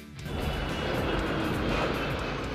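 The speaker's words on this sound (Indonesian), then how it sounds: "Sepertinya itu adalah pesawat yang sangat besar." Very large airplane flying overhead, a steady, loud broadband engine roar that swells in quickly and holds evenly throughout.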